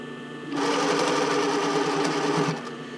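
Sewing machine stitching the edge of a Porcelynne Eve Classic bra, a steady close whirring run of about two seconds that starts and stops abruptly.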